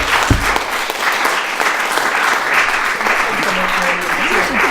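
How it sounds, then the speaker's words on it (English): An audience at a live comedy night applauds a comedian, with steady, dense clapping loud and close throughout and no speech over it. "Give him a round of applause."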